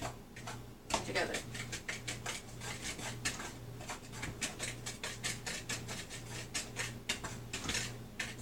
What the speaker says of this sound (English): We're just going to whisk everything together until everything looks all well combined and together.